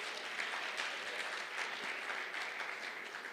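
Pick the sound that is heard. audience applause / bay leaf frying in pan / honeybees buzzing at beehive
audience applause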